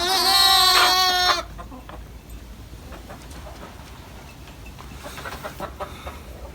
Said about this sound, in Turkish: Tavuklarımız da kuzu kaşağımızın önünde yatıyor ama.